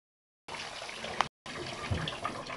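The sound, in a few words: water running over guinea pig during bath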